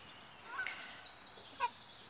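Chickens roaming a farm property alongside horses, giving a couple of brief, faint clucking calls over a quiet outdoor background.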